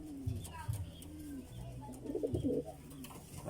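A young pigeon in a loft gives soft, low coos in short repeated phrases, close by, while a person talks over and between the calls.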